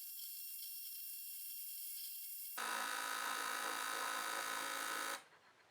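A Vevor ultrasonic cleaner runs a cleaning cycle with glasses inside. It gives a steady high electronic hum that turns louder and harsher partway through, then cuts off abruptly near the end, with no talking.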